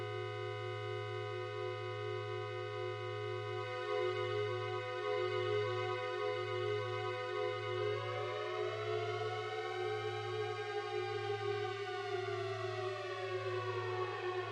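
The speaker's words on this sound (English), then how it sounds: "you hear that nice reverb" A sustained synthesizer tone from the Nonatone iOS app with rich harmonics and a steady low drone, its upper notes gliding and washing out into a long reverberant tail from a reverb effect.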